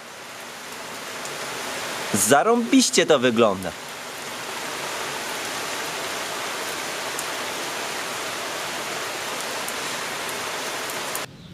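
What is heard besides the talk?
rain on car window and mirror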